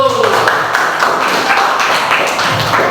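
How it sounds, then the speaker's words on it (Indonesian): Applause from a classroom group for the first team after its presentation, a dense continuous patter of clapping filling the room, close and fairly loud, with a voice speaking over it. "Kita beri tepukan untuk kelompok 1"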